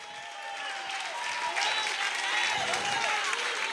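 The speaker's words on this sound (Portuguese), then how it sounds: "Aplauda o Rei dos Reis!" Church congregation applauding during a worship service, a dense, steady wash of clapping from many people with a faint voice or tone running underneath, building slightly in loudness.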